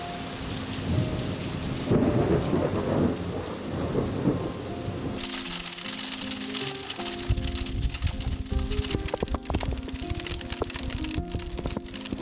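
Heavy rain pours down in a thunderstorm at an old hilltop fortress tower, with a loud, rolling thunder rumble early on. Dense, close rain spatter follows, with crackling drops hitting nearby surfaces.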